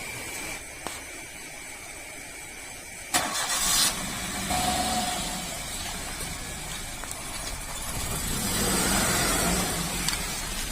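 A car engine cranks and catches about three seconds in, then idles with a low, moderately faint hum that swells slightly toward the end, at night before a ride.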